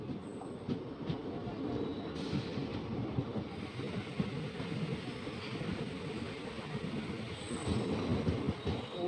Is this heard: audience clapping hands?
no